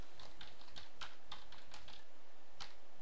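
A password is typed on a computer keyboard during a Windows installation on a virtual hard disk: a quick, uneven run of soft key clicks over a steady low hum, with no voices.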